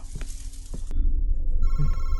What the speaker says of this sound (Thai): เฮ้ย โทรศัพท์